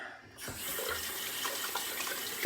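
Tap water runs steadily into a sink for wetting the face before an old-style shave with Williams soap, a continuous close splashing stream that starts after a short quiet moment and continues to the end.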